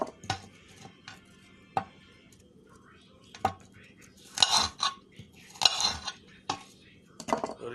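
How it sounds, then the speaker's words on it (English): A knife taps and chops through an apple against a cutting board in irregular strikes, with some louder clattering bursts, no talking. "I'm just chopping up the apple"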